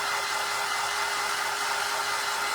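A hair dryer blows steadily on a St. Patrick's Day craft project, a loud, constant whoosh and motor whine that holds unbroken and close for the whole stretch with no talking.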